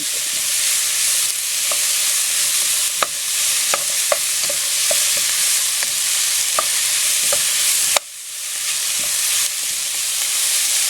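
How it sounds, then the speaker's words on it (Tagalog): Ingredients for sotanghon soup sauté in a pan with a steady, loud hiss, while a utensil clacks and scrapes in irregular strokes. The sizzle drops briefly as the food is turned, then climbs again. "gisahin lang natin ito. Haluin po nating mabuti para magpantay yung pagkakaluto"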